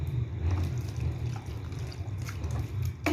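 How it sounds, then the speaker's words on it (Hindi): Water trickles and splashes into cream being churned by hand into homemade butter, a steady close liquid sound running throughout with a brief brighter splash near the end. "तकरीबन आधा गिलास के करीब पानी इसके अंदर ऐड करेंगे और फिर इसको दोबारा से हम चलाएंगे।"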